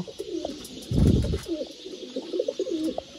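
Pigeons coo in soft, repeated low phrases at a breeder's loft, a nearby rhythmic cooing over light background noise with a brief thump early on.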